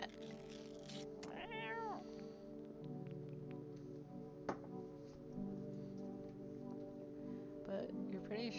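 Cat in the video game No, I'm Not A Human, meowing in several drawn-out, wavering cries spread across the stretch over a low background hum, with a sharp click midway.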